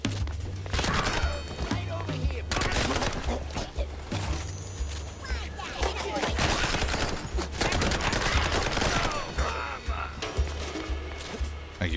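Gunfire rattles in bursts through the Mouse P.I. For Hire video game, dense repeated shots over a steady musical score, with sound effects crowding the mix.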